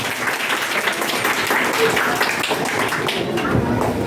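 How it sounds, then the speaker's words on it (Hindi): A studio audience at a quiz show claps for a contestant named Pooja, a steady moderate round of applause with scattered sharper claps and some talk underneath. "फिर से जोरदार तालियां पूजा के लिए।"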